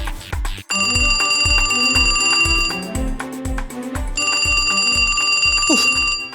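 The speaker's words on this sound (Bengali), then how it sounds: "এত রাতে আবার কার ফোন?" A telephone rings at night in a home, a loud, steady bell-like electronic ring repeating continuously and unbroken, set over a rhythmic musical backing.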